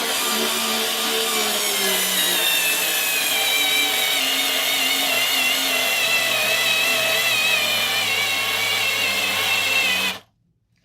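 A Ryobi power drill runs steadily at full speed for about ten seconds, a loud continuous whine with a slowly shifting motor pitch, then cuts off abruptly.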